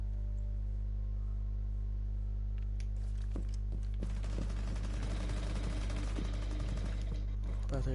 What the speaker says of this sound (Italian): io sento spari ovunque